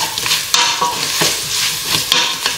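Eggplant pieces sizzle in oil in a pan while being stirred and mixed, with repeated scraping strokes of the utensil over a steady close frying hiss and no talking.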